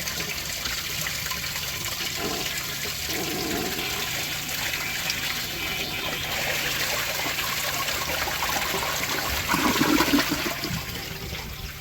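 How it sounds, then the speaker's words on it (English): A second flush of a 1970 Kilgore Apex toilet, a continuous nearby wash of rushing water with trickling refill, surging briefly louder toward the end, and no voices. "I will give that a second flush once the tank is filled up."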